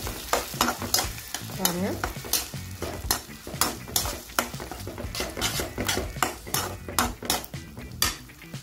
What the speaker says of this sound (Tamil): இப்போ வந்து முட்டையை சேர்த்துக்கலாம். சேர்த்துட்டு நல்லா வந்து பிரட்டி விட்டுக்கலாம்.